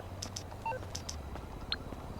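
A phone in GTA Online is being operated, giving short electronic beeps and tones, a few scattered menu blips and chirps at low level over a quiet background hum.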